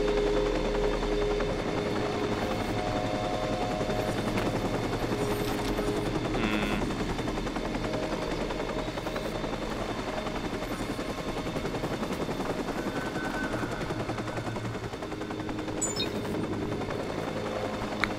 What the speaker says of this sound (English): VudO, why didn't you think of, like, taking out the helicopter?